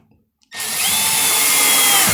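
A power drill drives screws into an electrical junction box, starting abruptly after a short near-silence and then whirring loudly and steadily at close range with no talk.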